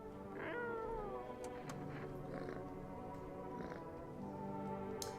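In the video game No, I'm Not a Human, a cat gives a clear, close meow early on, then softer purring and faint mews over a steady ambient bed, no voices.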